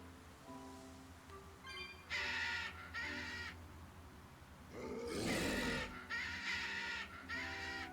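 Birds in Tales of Berseria caw in repeated harsh bursts, several calls in a row with a louder squawking flurry midway, fairly faint overall with no speech.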